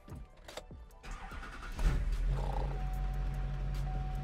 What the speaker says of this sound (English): This with the diesel platform starts up every time.